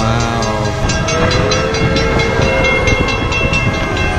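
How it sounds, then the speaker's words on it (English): The Polar Express steam train rumbles past near a museum, a loud continuous rolling roar with layered horn or whistle tones and rhythmic clatter throughout, no talk. "The Polar Express is right behind this building."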